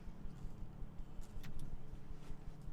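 A BMW race car engine in Assetto Corsa Competizione at Spa, a low, steady droning rumble held throughout, fairly faint, with no talking.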